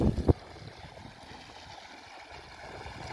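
Steady water flowing and rushing through an irrigation channel in a chickpea field, constant and close, after a brief thump at the start; no voices.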